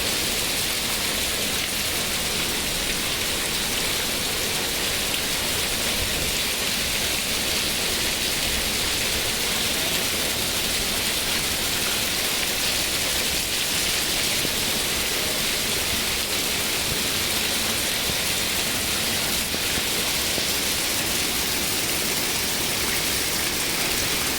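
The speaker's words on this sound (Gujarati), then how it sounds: "પાંચથી છ મિનિટમાં જોરદાર વરસાદ" Heavy rain pours down at Talaja as a steady, dense, even hiss of water that holds at a constant level throughout, with no voices.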